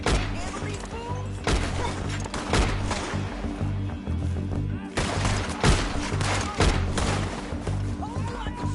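Gunfire in Red Dead Redemption 2 booms in repeated heavy shots and volleys, loud and close amid a chaotic shootout with dense background noise.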